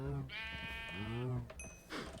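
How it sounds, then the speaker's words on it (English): Sheep bleating in the Minecraft video game, one long wavering bleat followed by a second shorter call, close and clear with no talk over it. "let's breed our first 2 sheep"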